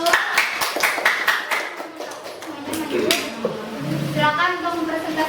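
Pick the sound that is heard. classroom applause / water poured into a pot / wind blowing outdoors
classroom applause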